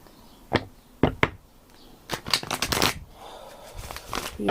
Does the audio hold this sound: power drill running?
no